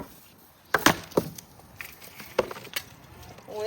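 Cheap metal from a Goldair GSFH220 fan heater bending and snapping, with several loud close cracks and crunches in irregular bursts, then lighter rattling as the broken parts settle.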